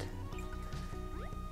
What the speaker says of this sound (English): We collect water dripping from the trees